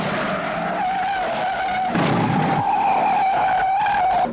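Car tires skid and squeal loudly through a San Francisco street chase in the film Bullitt, a sustained high screech over engine roar that swells in intensity partway through.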